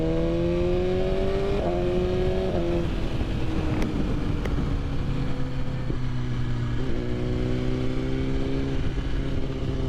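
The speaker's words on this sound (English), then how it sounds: "The off-throttle backfires on this bike are just so nice" A 2020 BMW S1000RR sport bike on the road, its engine droning steadily with rising and falling pitch through gear changes, a couple of sharp off-throttle pops, and wind rush throughout.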